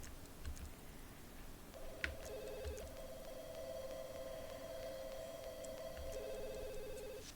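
A telephone in The Sims 2 rings in a steady electronic trill, with repeated rings running several seconds at moderate level over quiet game ambience.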